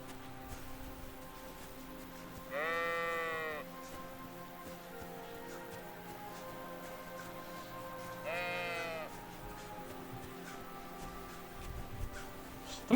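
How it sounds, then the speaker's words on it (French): Sheep in the medieval role-playing game Kingdom Come: Deliverance II bleat twice, two clear wavering calls several seconds apart over a quiet ambient background. "Les bêlements là."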